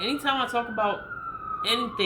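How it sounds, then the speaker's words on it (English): A siren wails steadily in the background, its tone drifting slightly, while a person talks over it. "the sirens go off"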